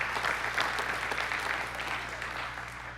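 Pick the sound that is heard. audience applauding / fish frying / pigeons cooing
audience applauding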